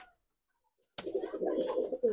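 Nildumma pigeons coo in a short, soft burst following near silence, a low throaty murmur lasting about a second, close and quiet.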